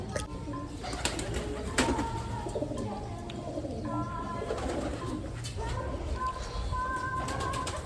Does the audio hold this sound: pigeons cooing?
yes